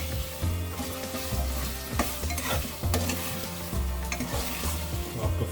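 Fresh ginger and garlic stirred and fried in a pan for chicken korma, a loud close sizzle broken by repeated scraping strokes of a spoon against the pan, keeping a steady stirring rhythm, with no voices.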